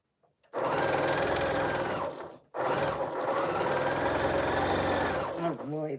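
Sewing machine running through quilting fabric in two long bursts of steady, close whirring separated by a brief pause, with a short sound at the very end.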